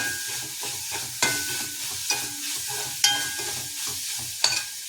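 Tomatoes and curry leaves sautéing in a pan: a bright, constant sizzle close up, with a spoon knocking against the pan in an even rhythm roughly once a second.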